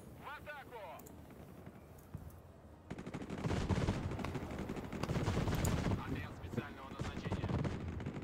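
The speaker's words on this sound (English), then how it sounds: "It's got its own machine gun on it." Heavy, sustained machine-gun fire from a tank in the Broken Arrow modern wargame, starting as scattered shots and swelling after a few seconds into a dense, continuous rattle of battle noise, with talk faintly under it.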